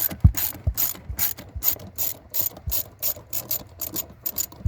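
A ratchet wrench clicks in quick, even rhythm while removing bolts during a Sprint Booster install on a Mercedes GLC, close and loud with no speech over it.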